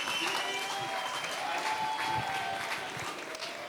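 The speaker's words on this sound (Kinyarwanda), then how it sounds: "amashyi cyane kuri MC Brian" Audience applause for an MC named Brian at a live comedy show, a dense, steady wash of clapping from a crowd that holds for several seconds and tapers slightly at the end.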